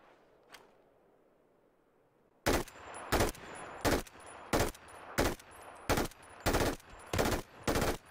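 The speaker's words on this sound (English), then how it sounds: "we got shot from a different direction" After a quiet stretch with one faint click, loud automatic gunfire in the PUBG video game breaks out in about nine short, evenly spaced bursts, close and sharp with no talk.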